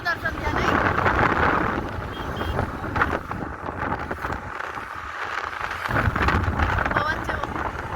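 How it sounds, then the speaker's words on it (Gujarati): Outdoor wind buffets a microphone at a roadside eatery during a village fair trip, a steady rumbling roar with gusts that rise and fall throughout, under a mix of distant voices. "પવન"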